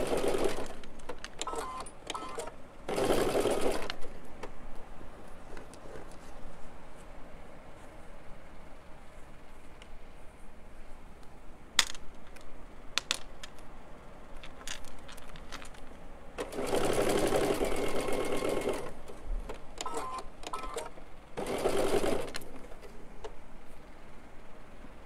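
A sewing machine chain pieces quilt blocks, running in several loud close whirring bursts of a few seconds each, separated by quieter stretches of handling and faint clicks.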